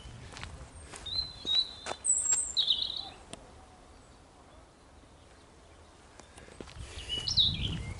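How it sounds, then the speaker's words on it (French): Scattered high bird chirps and short calls sound at a distance over quiet outdoor ambience on a walk through greenery in Saintes, France, with faint footsteps or rustling near the end. "Quand on entend les oiseaux,"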